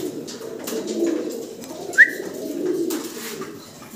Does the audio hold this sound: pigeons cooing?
yes